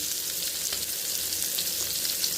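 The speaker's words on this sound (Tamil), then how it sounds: "எண்ணெய் காஞ்சிச்சு இப்போ இதில் வந்து வஞ்சிர மீன் வந்து ஒரு ஒரு ஸ்லைஸாக நம்ம எடுத்து வச்சுக்கலாம்" Slices of seer fish fry in hot oil, giving a steady, close, bright sizzle with crackle and no pauses.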